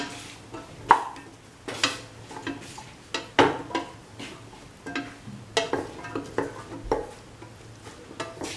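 A spoon stirs a scrambled egg and cauliflower stir fry with garam masala in a pan, giving repeated scraping and clinking strokes in an irregular rhythm over a soft sizzle.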